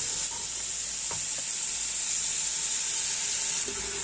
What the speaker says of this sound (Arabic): نقلبوه من كل جهه اللحم تاعكم، ومن بعد نحط البصل تاعي نخليه يدبل شويه مع اللحم